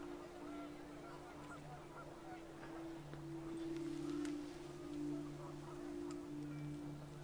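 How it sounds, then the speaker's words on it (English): Panicked geese honking in What Remains of Edith Finch as wind picks up, with steady layered calls over a windy backdrop. "The wind picked up, and panicked geese appeared and quickly went."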